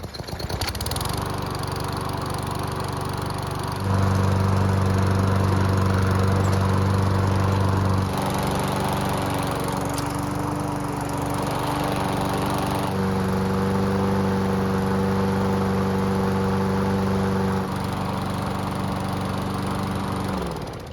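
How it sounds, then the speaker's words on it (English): A Toro lawn mower engine about two years old, running steadily at close range, its drone stepping up and down in loudness a few times, with no talk. "The only thing left to do now is to start the engine and show you how it's running."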